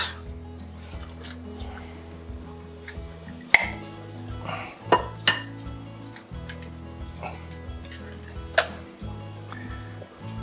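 Clinking of a utensil beating eggs and canned cream corn together in a bowl, several sharp taps and scrapes over a steady low hum in a home kitchen.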